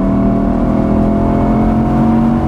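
A new Audi R8's engine hums steadily at fairly high revs during running-in, a smooth continuous drone with road noise underneath and no voices.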